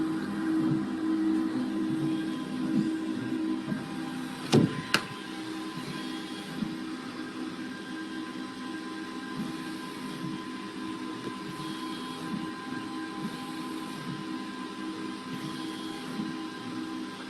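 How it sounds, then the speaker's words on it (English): An industrial SLM/SLS 3D printer builds a part, a steady mechanical hum with faint tonal whine throughout, broken by two sharp clacks early on, with no talk. "So there is a part which we are printing."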